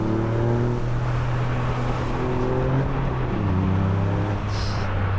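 A Toyota GR Yaris drives on a dry road, its engine holding a steady, close, tonal drone that dips in pitch partway through as if shifting gear, with no voices.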